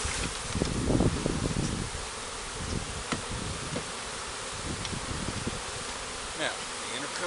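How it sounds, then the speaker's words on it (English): Honeybees drone in a dense, steady buzz close by while frames are shifted from a nuc into a 10-frame hive body, with scattered knocks and wooden bumps from the handling. "this is the bees that are left."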